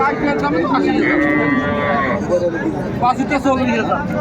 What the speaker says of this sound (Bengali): গাভী বাছুর